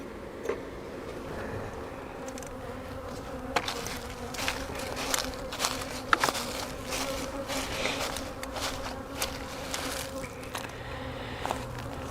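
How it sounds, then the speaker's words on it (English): Angry honey bees buzz steadily at an open hive during a spring brood box inspection, a dense continuous drone with scattered sharp clicks and taps from hive tools and frames. "We have got some mad bees."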